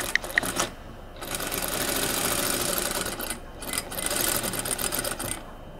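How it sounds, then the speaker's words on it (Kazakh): A sewing machine stitches the neckline of a dress with a 1 cm seam, running in two long, loud, rapid mechanical bursts separated by a short pause. No talking. "Мойын 1 сантиметр тігіспен тігеміз."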